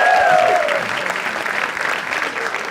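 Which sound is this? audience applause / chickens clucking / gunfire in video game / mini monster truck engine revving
audience applause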